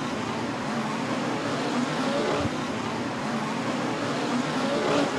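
Midget race cars lap Millbridge Speedway during an Xtreme Outlaw Midget Series race, a steady, dense engine roar from the pack that holds at a constant, loud level throughout without breaks.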